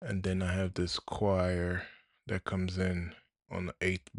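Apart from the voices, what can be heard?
No everyday noise stands out behind the speech.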